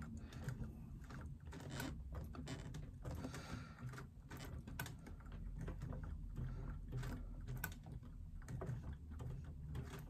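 Domestic sewing machine turned by hand crank while top stitching a bulky pouch, giving a steady low mechanical whirr with faint ticking and clicks of the needle, close and continuous throughout.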